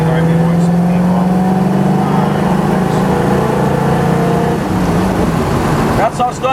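A 1957 Ford Thunderbird drives along with a loud, close engine drone that holds steady and then shifts pitch as it accelerates, with a voice speaking over it.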